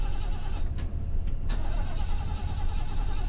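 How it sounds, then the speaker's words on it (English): A car engine in the horror game Fears to Fathom cranks steadily without catching, a loud, continuous grinding churn with a couple of brief sharp clicks partway through. "Can my car just start?"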